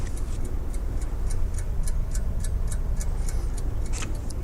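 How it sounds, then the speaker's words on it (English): An art deco clock ticks steadily at a brisk, even rhythm, the crisp clicks clear over a low background rumble. "Another very deco clock. I mean, take a look at that one. I can hear it ticking."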